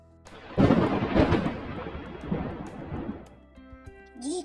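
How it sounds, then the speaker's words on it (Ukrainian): Thunder rumbles loudly in a long, rolling crack that swells and slowly fades, with a faint hiss of rain beneath. "Грім гримить, гроза."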